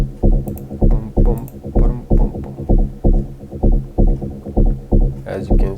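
A layered EDM bass line, a deep sub bass stacked with a Nexus synth mid bass, pumps in loud, evenly spaced rhythmic pulses throughout.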